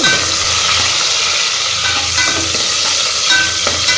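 Curry leaves and onion sauté in a pan, a loud, dense, continuous sizzle close by, broken by faint scraping stirs.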